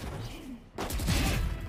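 A flashbang grenade detonates in Valorant, a brief muffled lull giving way to a loud, sustained broadband burst of blast noise that rings on to the end.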